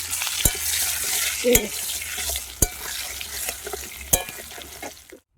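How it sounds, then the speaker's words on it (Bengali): Potatoes fry in a pan with salt and turmeric powder, a continuous close sizzle punctuated by several sharp spatula knocks and scrapes against the pan. "এই লবণ দিয়ে দিচ্ছি, আর একটু হলুদের গুঁড়ো অল্প দিয়ে দিচ্ছি, দিয়ে আমি আলুটাকে লাল লাল করে ভেজে নেব।"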